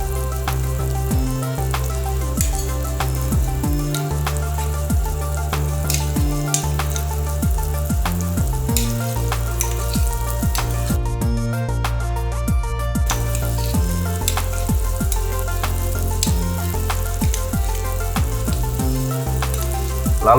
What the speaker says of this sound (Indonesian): terlihat air rebusan telah mendidih dalam panci